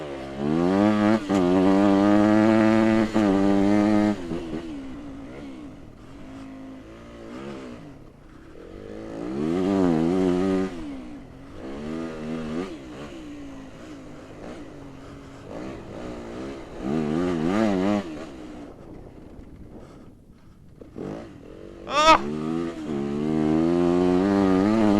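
A dirt bike engine revs hard with sharp, snappy throttle blips, loud and close, rising and falling in repeated bursts with brief lulls between them.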